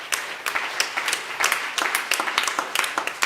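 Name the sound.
congregation clapping hands in praise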